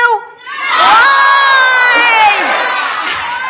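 A rally crowd shouts and cheers together, a sudden loud surge of many voices rising into a sustained, high-pitched roar that slowly tapers off.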